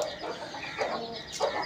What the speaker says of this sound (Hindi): यार ये देखो ये मुर्गी है